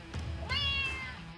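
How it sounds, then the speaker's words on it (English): A single cat meow, close and clear, rising then trailing off, with a faint rumble underneath. "Cat."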